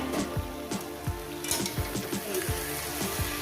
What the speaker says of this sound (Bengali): বেগুন টমেটো একসঙ্গে দিয়ে দিলাম দারুণ ফুটায়